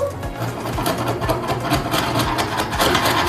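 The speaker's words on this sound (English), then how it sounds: "I'm going to be using my grout removal tool to take out any thinset that's sticking up between the tiles" A power grout removal tool grinds thinset out from between ceramic tiles, a continuous buzzing, rattling machine drone close by with rapid pulsing texture and no talking.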